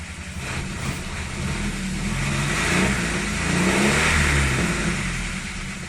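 A GAZ-2410 Volga car engine runs steadily at a low rumble, rising into a rev and easing back, heard close by with no voices.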